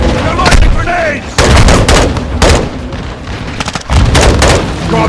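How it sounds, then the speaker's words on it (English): Gunfire and grenade launches from the video game Modern Warfare 2, with loud bursts of shots and heavy booms coming in rapid, repeated volleys, close and dense, and a voice faintly underneath. "Incoming! Take cover! They're launching grenades!"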